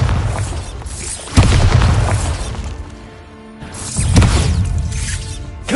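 Bombarda blasting spell explosions in Hogwarts Legacy: two loud, sharp booms about three seconds apart, each followed by a rumbling, crashing decay with debris-like shattering, heard alone without voices.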